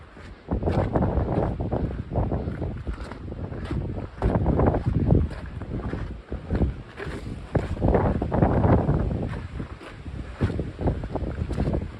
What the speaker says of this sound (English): Getting windy.